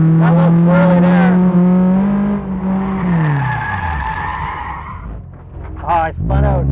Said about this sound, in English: Oh, I spun out.